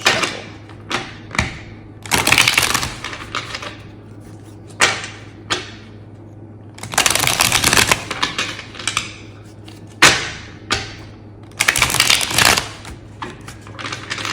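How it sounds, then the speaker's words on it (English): Tarot cards shuffled hard, with repeated bursts of crisp riffling and slapping set apart by short pauses, sounding close and fairly loud. "Good hard shuffle."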